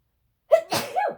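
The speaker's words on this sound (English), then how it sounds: "Pardon me, I'm going to sneeze." A single person sneezes once, close and clear: a short sharp intake, then an explosive burst, all against silence.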